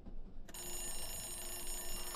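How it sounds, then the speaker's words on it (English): A phone rings in a VR private investigator video game, a steady electronic tone with bright sustained overtones that starts abruptly after a short rumble and keeps going without a break. "Someone's ringing me."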